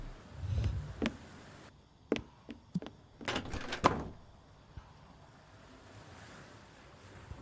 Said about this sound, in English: Is that her closing the door?